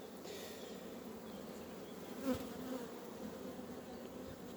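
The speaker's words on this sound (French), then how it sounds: "c'était un attroupement d'abeilles." Honey bees clustered inside a hive hum with a steady, dense drone, close and even throughout, with a brief louder buzz midway.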